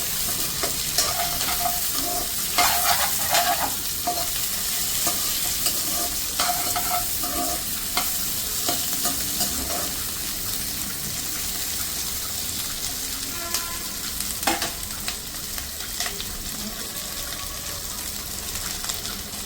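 Capsicum stir-frying on high heat for paneer fried rice, a continuous loud sizzle broken by scraping and clinking of a spatula stirring in the pan.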